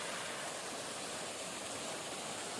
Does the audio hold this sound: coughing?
no